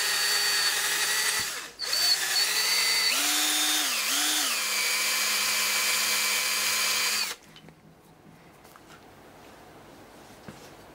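A loud electric drill whirs steadily for several seconds boring a pilot hole that wanders off centre, its pitch dipping and rising as it bites, then cuts off, leaving quiet room noise and a faint knock.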